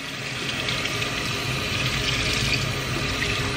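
Water runs steadily from a tap into a sink for a few seconds, a close, even hiss and splash with no talking, while a makeup sponge is rinsed.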